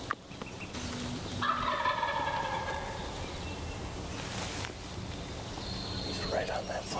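A stubborn wild turkey longbeard gobbles in the New York woods, several rattling calls carrying from some distance over a steady outdoor background, with quiet voices murmuring nearby.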